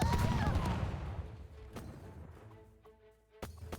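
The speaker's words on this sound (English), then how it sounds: "He bombed himself." A bomb blows up in a game match of humans against gummy creatures, a loud burst at the start that rumbles and fades, followed by a few sharp clicks and a second impact near the end.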